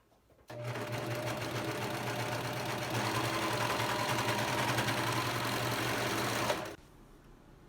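A sewing machine stitches a folded cotton face mask strip in one continuous, even whirring run of about six seconds that starts and stops abruptly.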